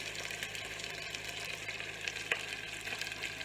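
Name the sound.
seared pork steak sizzling in a pan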